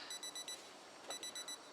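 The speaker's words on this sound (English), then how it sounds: "one of the alarm clocks are going off" An alarm clock going off in a video game, quiet rhythmic beeping in two short groups of rapid pulses separated by a brief pause.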